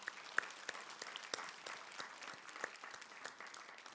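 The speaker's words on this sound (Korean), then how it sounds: "우리 다시 한번 감사의 박수 한번 하시면 좋겠습니다." A church congregation clapping, sharp individual claps scattered across a soft steady patter, moderately distant and fairly quiet.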